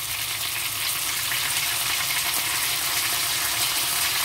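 Red vinegar poured into a pan of pork belly for sweet and sour, a loud, continuous hissing sizzle that swells after the first second and holds steady, without speech.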